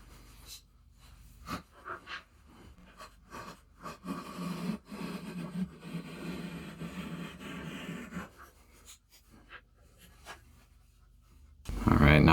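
A Swiss Army knife whittles a wooden stick figure, giving scattered close scraping and shaving strokes with a denser stretch of cutting in the middle, interrupted by a few sharp clicks and a loud bump at the end.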